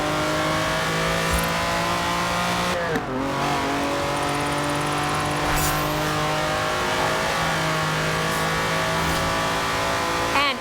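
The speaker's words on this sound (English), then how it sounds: "Choosing the car for this one was so hard, but I have to love the Countach," A Lamborghini Countach engine in Forza Horizon 4 holds a loud, steady high-revving drone, with a brief shift dip near the three-second mark before the tone climbs again, continuous and close.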